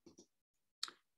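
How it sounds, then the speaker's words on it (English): Keyboard keys pressed while switching tools in Adobe Illustrator, two quick soft clicks followed by a single sharper click after a short pause, faint and close. "So then I can hit my A on the keyboard, right?"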